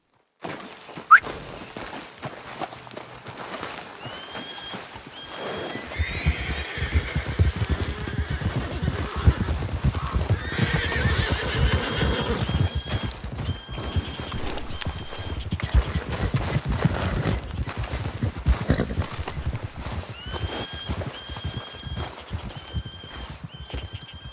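Video game horse from Red Dead Redemption 2 free roam with Arthur, neighing and whinnying while hooves clip-clop steadily on the ground, close and fairly loud over a quiet ambient background.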